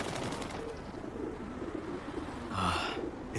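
A pigeon coos nearby in a low, soft, throaty murmur, faint under steady background noise, with a brief rustle near the end.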